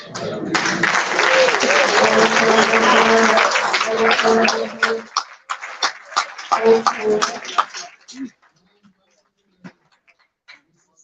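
Legislators and guests at Liberia's State of the Nation address applaud in the chamber. Loud, dense clapping holds for about five seconds, then breaks into scattered individual claps and a few voices before fading to near silence.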